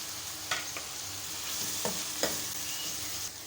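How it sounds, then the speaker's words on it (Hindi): Ginger-garlic paste and dry spices fry steadily in a pot for beef biryani, with a continuous soft sizzle broken by a few sharp spoon scrapes and taps. "तो ये देखिए हमने मसालों को भून लिया है ताकि इनका कच्चापन दूर हो जाए"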